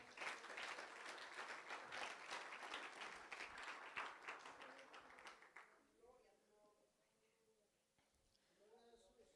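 A church congregation claps loudly and steadily as a dense wash of hands for about six seconds, then the applause fades out and a voice begins speaking.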